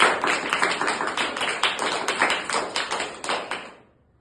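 About fifteen crisp hand claps ring out in a steady rhythm at a children's storytelling session, loud and close, before stopping abruptly into silence.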